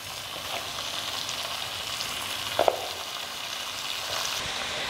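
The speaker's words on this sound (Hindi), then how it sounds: "यहाँ पर तकरीबन 1 से 2 मिनट के लिए हमने गोश्त को प्याज और घी में भून लिया है" Beef pieces fry with onions in ghee for a karahi, giving a steady, close, continuous sizzle with one brief clatter partway through and no talk.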